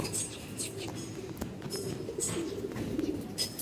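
Big pigeons give soft, continuous rolling coos in a loft, fairly quiet and overlapping, with scattered wing flutters and faint background noise throughout.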